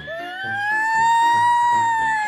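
A person imitates a fire engine siren with their mouth, a smooth rising and sustained tone, loud and close, with a rhythmic thumping beat underneath.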